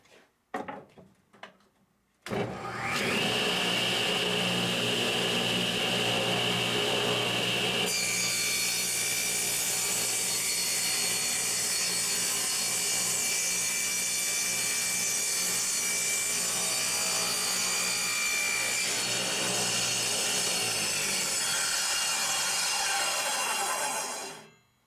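A saw rips 1.5-inch-wide wooden boards into top rails for Layens beehive frames, a loud, steady whining cut that starts after a brief pause and runs unbroken for about twenty seconds before stopping.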